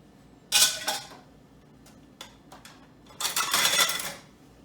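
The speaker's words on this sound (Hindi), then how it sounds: "मेरे को अपना मक्खन इतना मिलाना है जब तक हमारा मक्खन सफ़ेद बन गया" Softened butter being mixed in a bowl for cumin biscuits, with two bursts of clattering, scraping spoon-against-bowl sounds separated by a few lighter knocks, close up and without talk.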